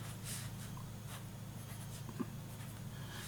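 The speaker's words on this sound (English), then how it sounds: "Alright, so Waterman Safety Pen. It's a little scratchy." A nib of a vintage Waterman safety fountain pen scratches faintly across paper in short strokes, close up over a steady low background hum.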